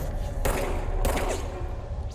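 Gunfire in the video game Control, two loud broadband bursts about half a second apart over a steady rumbling game background.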